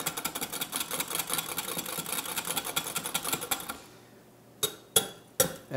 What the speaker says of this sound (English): And we whisk the egg into the buttermilk.